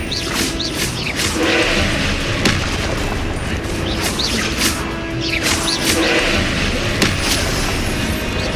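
Spellcasting effects from the Hogwarts Legacy video game: a dense, continuous wash of magical whooshes and impact booms, with repeated swelling bursts over busy game noise.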